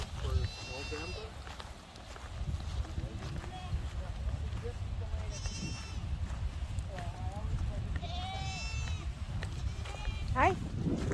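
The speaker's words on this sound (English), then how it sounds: "There are more goats in here." Goats bleat repeatedly in a pen on a goat farm, several wavering calls near and far amid shuffling hooves and people talking quietly.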